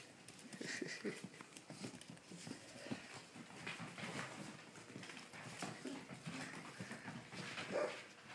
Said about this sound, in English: That's Romeo playing with the puppies.